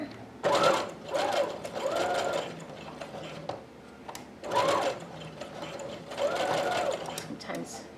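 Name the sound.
sewing machine stitching fabric gathers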